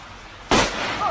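An explosion sound effect for a floating object bursting apart: one abrupt, loud blast that hits all at once and leaves a sustained roar behind it.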